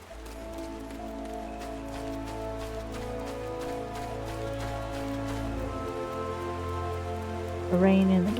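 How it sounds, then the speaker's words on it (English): Steady rain patter from both Final Fantasy XIV's in-game weather and real rainfall, a continuous wash under sustained game music with tonal chords, a brighter flourish near the end. "The rain in the game and the rain in real life are not helping me."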